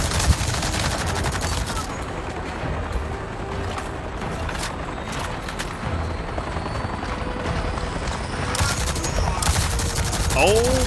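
Steady rapid gunfire and a helicopter-like drone sound fill a shooting scene in the video game Avatar: Frontiers of Pandora, with dense continuous noise and some louder bursts near the end.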